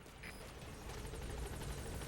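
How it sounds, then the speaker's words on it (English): A support helicopter arriving in Metal Gear Solid V: The Phantom Pain, its rotor giving a steady, fairly faint broadband roar with a rhythmic chop that grows slightly stronger partway through. "We'll probably just get the helicopter to come get us real quick."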